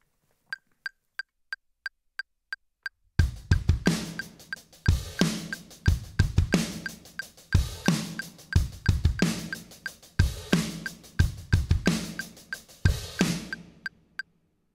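Drums play the simple intro groove of a song: a click counts in with eight even ticks, then kick, snare and cymbals enter in a steady, loud, close groove with the click still audible, no voices.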